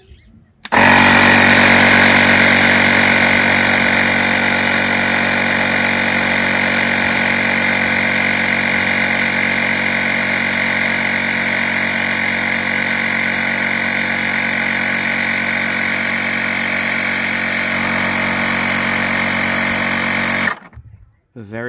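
A wireless electric tire inflator pumps up a car tire with a loud, steady mechanical buzz and drone that starts abruptly, runs about twenty seconds without a break, then cuts off on its own.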